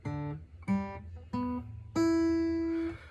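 Open guitar strings in standard tuning are plucked one after another with clear, harmonic-rich notes: three short tones, then a longer ringing note that sustains and slowly fades, heard alone and close.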